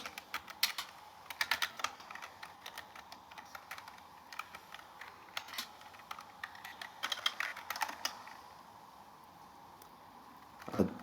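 Quick bursts of keystrokes on a computer keyboard as HTML code is typed, clicking in uneven flurries separated by short pauses, close and fairly quiet, ending with one louder tap.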